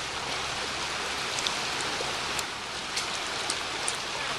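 Flowing stream water outdoors near Boulder, Colorado, a steady broadband rush with small splashes, fairly loud and continuous with no speech.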